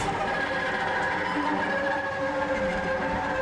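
A subway train in the skateboarding video game Skate Story rumbles steadily with sustained metallic tonal whines over a constant low roar, heard alone without speech.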